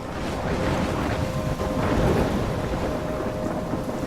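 Heavy rain pours steadily through a thunderstorm in the game Life Is Strange, deep thunder rumbling and building near the middle, loud and unbroken throughout with no one speaking.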